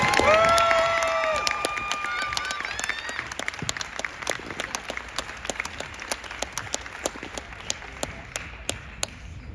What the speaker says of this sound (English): Let's give the presenters from Golda Meir School a round of applause.